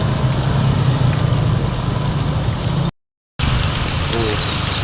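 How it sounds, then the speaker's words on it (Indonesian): Heavy, steady downpour hisses across the whole clip, broken by one brief full dropout, with a low engine-like rumble underneath and faint voices mixed in; a flooding street near a school where cars and motorbikes turn back. "Hujannya semakin besar."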